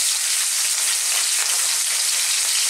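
Ox tripe sizzles in olive oil for Filipino callos, a loud, dense, even hiss of frying that stays constant from start to finish.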